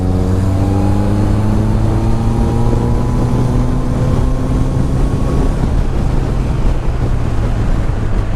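A 2022 Honda CBR 650R BS6 motorcycle engine runs steadily while riding, its loud continuous drone layered with rising harmonic tones as revs climb, over constant wind rush with no talking.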